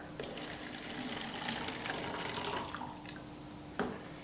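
Tap water runs steadily over tomatoes being washed, a continuous splashing flow with a few brief drips and clinks near the end.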